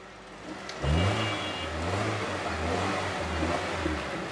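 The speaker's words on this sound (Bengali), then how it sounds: "আমি গাড়িটা স্টার্ট দিয়ে দেখাই দর্শকদেরকে ভাই স্টার্ট দিছি গাড়ি স্টার্ট স্টার্ট গাড়ি" A used car is started near at hand: a brief crank catches, then the engine settles into a steady mid-pitched idle with slight rises, loud and close throughout.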